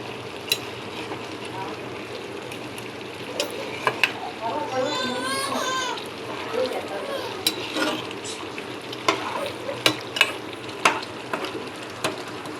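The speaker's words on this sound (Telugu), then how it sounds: "ఇదిగోండి ఒక స్పూన్ గరం మసాలా కూడా వేసుకుందాం. ఒకసారి కలిపి పెట్టుకుందాం." A spoon stirs garam masala into leafy greens pulao in a sizzling pan, giving continuous frying hiss and scraping with intermittent clinks, while a voice talks over it.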